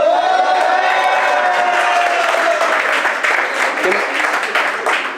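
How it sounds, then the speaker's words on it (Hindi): A crowd applauds loudly and steadily for several seconds, with a few cheers and voices rising through the clapping. "जो लोग तालियां नहीं बजा रहे, इतनी जोर से बजाओ"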